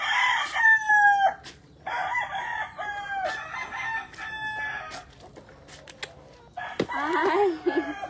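Chickens in a coop cluck and a rooster crows loudly several times in bursts close by, with short pauses between calls.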